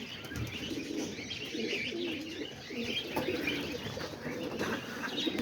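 Homing pigeons, a roller youngster and a grizzle among them, coo softly as they rest together up high, with low throaty calls, a few chirps and a brief wing flutter, no talking.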